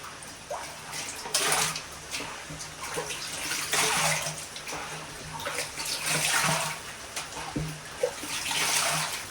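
Water gushes from a tap into a bucket, a full rushing stream with splashing and sloshing that swells and eases over several seconds; no talking.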